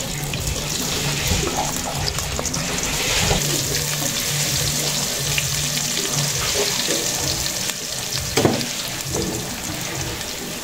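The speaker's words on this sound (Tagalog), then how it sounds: "Yung pong aking kasarola. Diyan po ako magigisa." Oil sizzling in a cooking pot as sautéing begins, a steady broadband hiss with watery crackle running throughout at moderate level, no talking.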